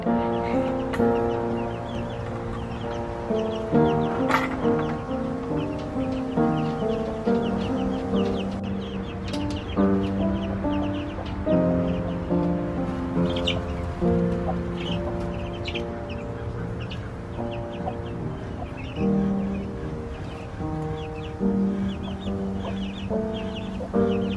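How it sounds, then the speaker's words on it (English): Chicks in a pen keep up a dense, continuous chorus of chirps and clucking cheeps, close and lively for the whole stretch, with no talking. "That is a pen of chirping goodness."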